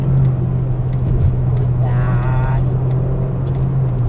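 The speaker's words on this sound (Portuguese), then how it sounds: "E vamos fazer uma ultrapassagem." A car with a 1.6 engine overtaking on a highway in Brazil: a loud, steady engine drone and road rumble fill the cabin, with a rising tonal whine partway through.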